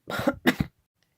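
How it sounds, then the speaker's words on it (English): Two harsh coughs in quick succession, close and loud, followed by a brief throat sound and then quiet. "pardon me, the wretched cough"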